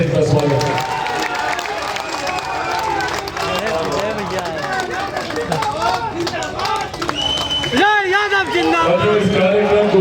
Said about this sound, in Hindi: आप लोग जोरदार ताली से इनका स्वागत है।